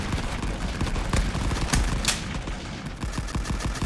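Rapid bursts of friendly gunfire in the WW1 game Rising Front, with dense overlapping shots and cracks running steadily throughout, loud and close with no pauses.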